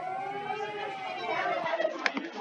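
A Singapore emergency alert siren wails in a steady sustained tone with slight pitch movement, moderately loud and heard alone without voices over it.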